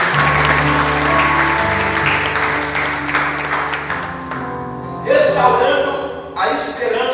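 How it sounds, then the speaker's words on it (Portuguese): A church congregation applauds steadily and loudly through a worship service, a dense wash of clapping with sustained music and voices underneath, then the clapping swells again in two short bursts near the end. "aplauda o Senhor mais uma vez"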